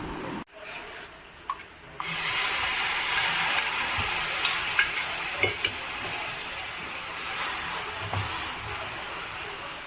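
Chicken curry ingredients with ginger, garlic and curry leaves stirred in a hot pan, a soft continuous sizzle with scraping rubs and light clinks of the spoon, close by and moderate in level, beginning after a brief quieter stretch.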